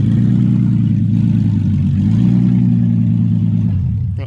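A supercharged 2007 Nissan Altima SE-R engine running after a motor swap, a loud, close, throbbing low rumble that swells slightly mid-way then drops off near the end.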